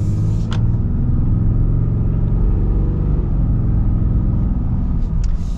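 A 2022 Ram 2500 Mega Cab Limited with a Cummins diesel engine accelerates, giving a loud, steady, deep rumbling drone that stays close and strong throughout with no talking.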